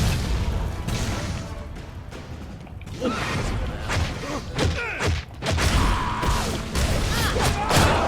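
Bombs detonating in the video game Shank 2: loud, dense booms and crashes over a continuous roar of game sound, with thuds and whooshes layered throughout.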